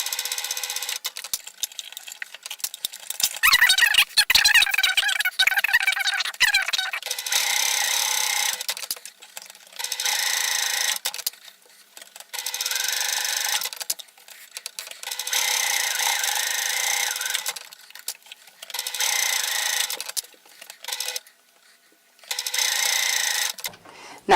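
Sewing machine stitching and backstitching a fleece hat seam, a loud, close mechanical whir running in several bursts with brief pauses between them, alone without talk.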